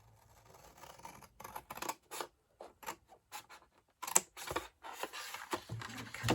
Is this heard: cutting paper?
yes